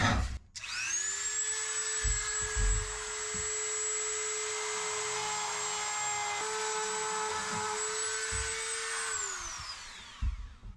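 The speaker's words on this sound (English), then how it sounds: "I got a basically a conical burr for the little Dremel" A small Dremel rotary tool with a conical burr strips paint from the wooden beams of a classic boat. It gives a close, high, steady whine for about eight seconds, then winds up and down at either end.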